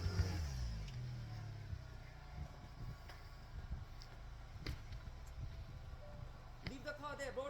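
A car engine runs with a low, steady drone that swells briefly at the start, continuing under voices talking nearby over several seconds.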